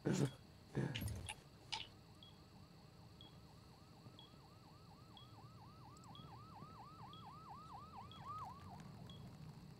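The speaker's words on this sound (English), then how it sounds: "Hey, you hear the sirens?" A video game siren wails, cycling up and down repeatedly in the distance and growing slightly louder, after a few sharp thuds at the start.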